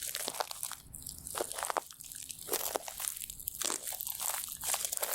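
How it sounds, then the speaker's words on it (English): Footsteps crunch over chipped wood on a park path, a run of close, distinct crunching steps in a loose rhythm with brief gaps between them. "This is me walking over some chipped wood in a park"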